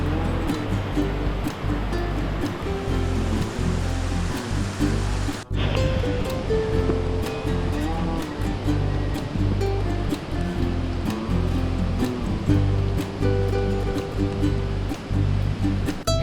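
Steady rushing water from a waterfall on the Levada do Caldeirão Verde walk in Madeira roars continuously at close range, a dense broadband wash with no let-up, briefly interrupted by a sharp cut midway.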